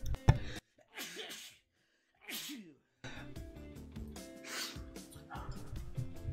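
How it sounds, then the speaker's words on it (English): A single person's sneeze, sharp and close, followed by sniffing and breathy snorts, then video game music and effects from the jet combat game Jet Lancer continuing underneath. "Oh, I gotta sneeze."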